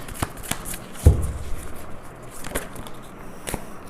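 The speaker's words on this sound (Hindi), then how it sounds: "तो मैं पहले 5 कार्ड्स निकाल लेती हूँ।" A deck of tarot cards is shuffled and cards are drawn in a quiet room: soft, scattered papery rustles and flicks, with one sharper riffle about a second in.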